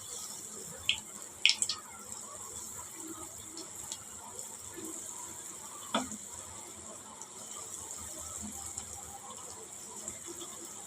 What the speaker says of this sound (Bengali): ডুবো তেলে ভেজে নিতে হবে।